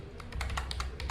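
Computer keyboard keys tapped in a quick, even burst of about half a dozen close, crisp clicks with no voices.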